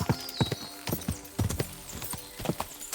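A horse gallops in the video game Kingdom Come Deliverance 2, close, heavy hoofbeats in quick uneven clusters with a brief whinny at the start and no talk.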